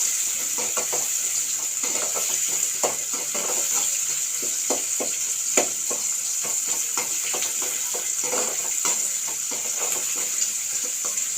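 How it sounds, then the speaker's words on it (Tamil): Tomatoes sauté in a pan for paruppu kuzhambu, a steady close sizzle with frequent light scraping and stirring taps throughout, no voices. "தக்காளியை போட்டு வதக்கிட்டு"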